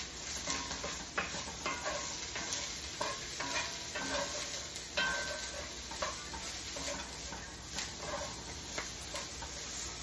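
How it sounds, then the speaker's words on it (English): Potatoes cooking in a pot for a bison meatloaf dish, stirred steadily with a soft continuous sizzle and repeated scraping strokes, quiet and close, with no voices. "Let's stir it around."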